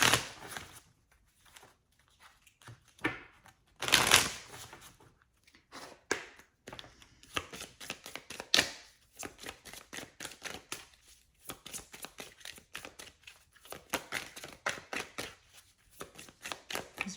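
A deck of oracle cards is handled and shuffled up close, giving soft riffling flutters and taps in irregular bursts with quiet gaps.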